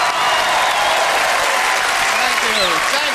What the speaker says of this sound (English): Keep it going for Ben Elton, ladies and gentlemen, and his now famous suit and tie